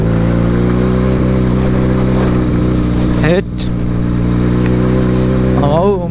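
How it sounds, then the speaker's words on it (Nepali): A Benelli 300cc motorcycle engine idles and revs steadily in the foreground, a continuous harmonic drone with a brief dip and rising rev partway through, while someone talks over it. "यो बेनेली आएको हो किनकि यो बेनेली हो 300 cc को"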